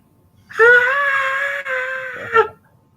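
A loud, high, wavering scream from Curling in the film Clue rings out for about two seconds, sustained with a brief break and a final upward flare.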